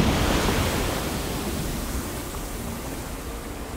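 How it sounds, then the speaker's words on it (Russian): A waterfall in the video game Spirit of the North rushes as a steady, broad roar that eases slightly after the first second, with no voices. "Водопад вверх."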